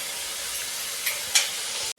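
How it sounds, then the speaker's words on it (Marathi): Hot water hitting a pan of cooking chicken in a kadhai, a steady soft hiss and steamy sizzle with a couple of brief sharper bursts, close and alone. "कढईमध्ये आपण पाणी गरम केलं होतं ना ते याच्यामध्ये टाकून बघा आपलं चिकन शिजतंय"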